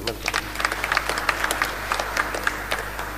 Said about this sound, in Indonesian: Tepuk tangan dulu buat tim jemaat ini.